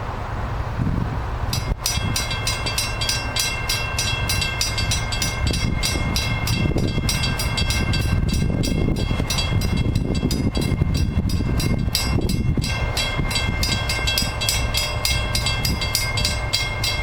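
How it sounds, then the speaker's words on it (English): An Amtrak train passes close by in snowy conditions, producing a loud, sustained rumble with rhythmic wheel clatter and screeching metallic overtones that lasts the whole time. "Got an AMTRAK coming."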